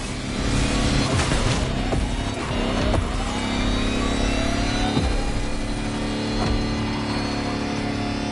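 An electric Lamborghini hyper concept car in the Motorfest racing game hums and whines steadily under acceleration, a loud continuous drone with rising whooshes throughout and no talk.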